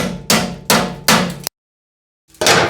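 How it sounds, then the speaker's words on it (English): A 3/8 socket is pounded onto a badly rusted bolt while replacing the gas tank of a 1999-2003 Ford F150: three sharp, ringing metallic hammer blows close up, a brief silence, then one more strike. "I'm going to pound a 3/8 socket on here."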